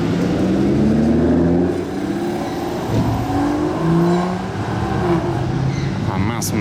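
A Ferrari Daytona SP3 with a straight-pipe exhaust revs loudly and close, its engine note rising and falling in sweeping bursts, with people talking over it.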